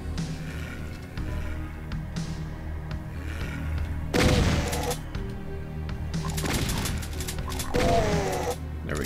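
Gunfire in the video game Doom The Roguelike: several loud, sharp blasts and crashing impacts over continuous game background sound, with no talking.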